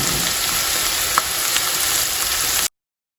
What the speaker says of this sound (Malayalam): സവാള മുറിച്ച് വെച്ചത് സ്ലൈസ് ആക്കി മുറിച്ച് വെച്ചതും ഇട്ട് കൊടുക്കുക